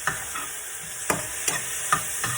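Garlic frying in a pan for chicken adobo, a steady close sizzle with several soft stirring scrapes at irregular intervals, no talk.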